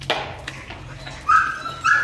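A dog yips and whimpers in short bursts, followed by two higher, drawn-out whining cries near the end.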